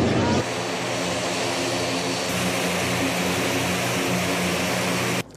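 A Casa 295 military propeller airplane drones steadily and loudly from close by, a constant engine roar with a strong low hum that cuts off abruptly at the end.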